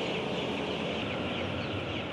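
Chickens cluck in a dense, continuous chorus inside a poultry house, with a steady ventilation-fan hiss beneath the birds.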